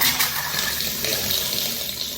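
Water gushes steadily from a newly fitted bathroom tap, a loud, close, continuous splashing rush with no talk.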